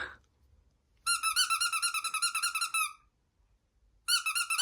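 Squeaky dog toy squeezed over and over, a fast run of shrill rubbery squeaks lasting about two seconds, a pause, then another burst, loud and close in a quiet room.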